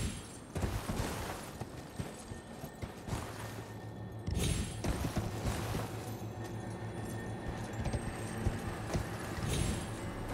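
Steady clip-clop of horse hooves in the video game Elden Ring, close and continuous, with an occasional heavier thud and a faint neigh, no talking.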